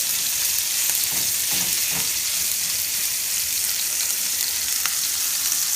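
A steak sears in a hot frying pan, giving a steady, dense sizzle with faint crackles throughout, close and continuous with no talking.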